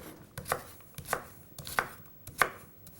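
A knife chops swede, onions and other vegetables for a vegan festive roast dinner, with four sharp, evenly spaced strikes on a board. The strikes are close and crisp, and no voices are heard.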